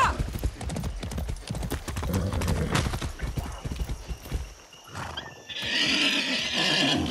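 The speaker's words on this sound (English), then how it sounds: "That's a good horse." Clip-clop hooves of a galloping horse in the video game Far Cry 6, with loud repeated neighing, a steady rapid beat up close, then a whinny near the end over game sounds.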